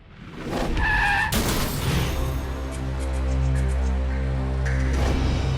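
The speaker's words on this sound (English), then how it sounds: "The trailer spun 180 degrees, then slid into a ditch." A tractor trailer spins and slides into a ditch: loud skidding and scraping burst in early, then a heavy, rumbling engine drone with steady harmonics carries on to the end, with no talking.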